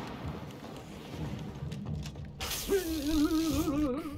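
A lightning attack effect from the video game It Takes Two, a crackling burst that starts about halfway through and carries a wavering electric tone over noisy game sounds, with no talking.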